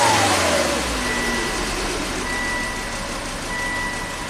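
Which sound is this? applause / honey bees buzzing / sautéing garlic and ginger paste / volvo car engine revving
volvo car engine revving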